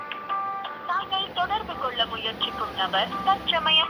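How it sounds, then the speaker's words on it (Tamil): An unanswered outgoing phone call on the Airtel network plays a melodic ringback tune that carries on steadily over the line, with voice-like notes woven through the music. "பாரு, ரிங்கு போகுது பாருங்கள், ஃபோனை எடுக்கவே மாட்டேங்கிறான்"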